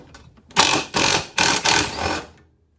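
A Ryobi cordless power tool undoes the blade bolt on a Honda 216 lawn mower in four loud, close ratcheting bursts, each about a third of a second, with brief gaps between.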